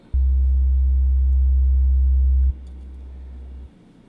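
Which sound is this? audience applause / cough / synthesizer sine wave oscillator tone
synthesizer sine wave oscillator tone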